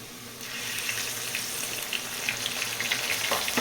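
Garlic paste frying in hot oil with onions, a continuous close sizzle that swells louder as the paste hits the oil, with scattered crackles and pops.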